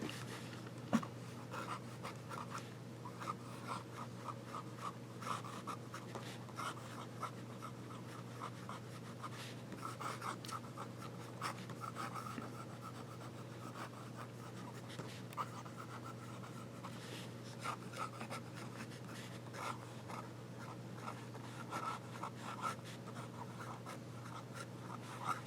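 Broad-nib Opus 88 fountain pen writing on Rhodia paper, a close, continuous soft scratching of nib on smooth paper with steady strokes, alone with no talk.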